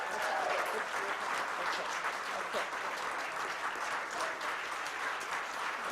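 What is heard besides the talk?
audience applause for scholarship recipients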